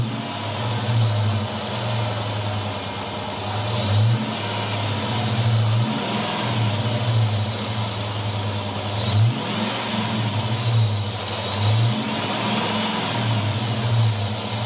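A modified car engine runs with a deep, throbbing rumble, rhythmic pulses swelling every second or so as it is revved repeatedly, close and steady with no talking.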